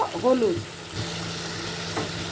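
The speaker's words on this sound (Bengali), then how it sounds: "এবার এটা ভালো করে ভাজা হবে" Potato and pumpkin pieces fry in a pan with turmeric and a black cumin and chilli tempering, giving a soft, continuous close sizzle; a brief voice is heard at the start.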